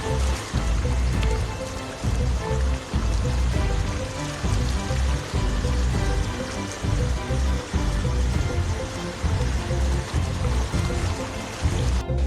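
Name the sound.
rushing tidal flood water flowing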